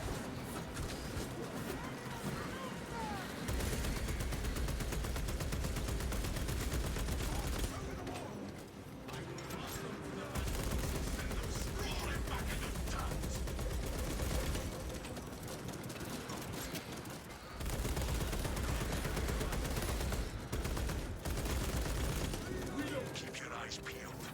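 Dense bolt carbine fire in the Space Marine 2 video game comes in rapid, sustained bursts with brief pauses between them. Loud game combat noise fills the mix with no pauses for talk.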